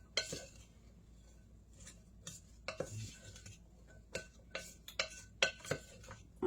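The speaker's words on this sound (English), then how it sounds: "So now what I'm going to do is give all this a stir." Utensil stirring a veggie burger mixture with garlic in a bowl, a run of sharp clinks and scrapes against the dish, some clustered and some spaced out, close and fairly quiet with no talking.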